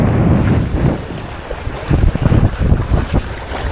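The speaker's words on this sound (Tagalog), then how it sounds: "Lakas ng alon. Ayan o hangin." Strong wind roars over rough waves from a fishing boat in Manila Bay, loud and constant with rumbling gusts and splashing surges, and no voices.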